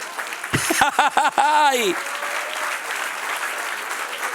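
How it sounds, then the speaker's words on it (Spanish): A church congregation breaks into loud applause during a Spanish-language sermon. A voice calls out over the first seconds, then steady clapping carries on alone. "Dele un aplauso al que vive."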